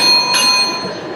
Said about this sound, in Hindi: इस दौरान 2 बार इस तरह घंटी बजेगी।